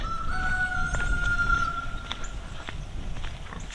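A rooster crows with a drawn-out call while chickens cluck and scratch nearby, set against a steady outdoor background hum.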